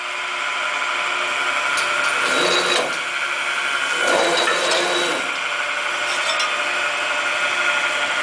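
A Connecticut 25-ton, 48-inch press brake cycles repeatedly over a constant loud motor hum, with three short mechanical surges spaced a couple of seconds apart.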